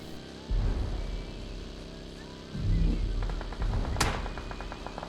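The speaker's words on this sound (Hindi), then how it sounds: "लेकिन तभी इनका एक बंदा पीछे से फायर करता है।" Gunfire in the mobile battle-royale game BGMI, with several sharp shots ringing out amid game ambience and a couple of louder bursts, a shot arriving from behind the player.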